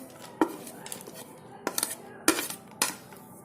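Finely chopped almonds tipped into milk in a pot in a home kitchen, heard as a few sharp metallic clinks and scrapes of utensil against the pot, spaced out with quiet between them.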